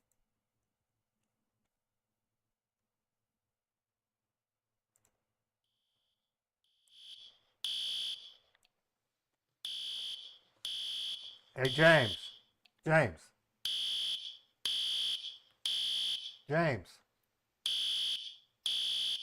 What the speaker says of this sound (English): We're having a fire alarm.